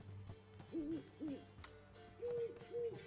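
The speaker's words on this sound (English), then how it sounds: "And it's hooting. It's hooting." Several soft owl hoots come from The Witcher 3, a few rising and falling calls in quick pairs over a quiet game ambience.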